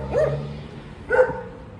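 Dogs barking at a Chinese temple, two sharp separate barks about a second apart, moderately close and clear over a quiet background.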